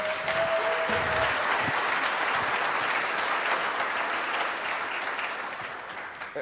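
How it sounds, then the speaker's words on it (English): Audience applause at the MivaCon 2014 conference keynote, a dense sustained clapping from a large crowd filling the room steadily for several seconds before gradually thinning toward the end. "A round of applause to Mr. Brennan."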